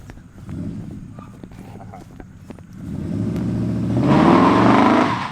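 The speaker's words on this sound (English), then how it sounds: "Oh, we got burnout going along." A Ram truck with a 6.1 Hemi and a new exhaust does a burnout, its engine rising from a rumbling idle into a loud, sustained roar that peaks and holds near the end.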